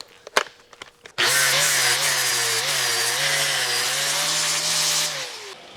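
Steel being ground flat with a flap disc on an angle grinder during gooseneck trailer fabrication: a steady, loud whine with a wavering pitch runs for about four seconds, following a few brief knocks, then cuts off.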